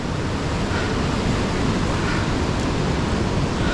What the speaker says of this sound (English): The river's 4 feet today, roughly, so that's a good height. And it's really moving fast.